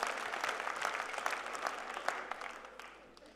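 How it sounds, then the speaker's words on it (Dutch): An audience claps for God during a Christian stage talk, a sustained ripple of clapping from a crowd that slowly thins toward the end. "Ja, je mag een applaus geven voor God."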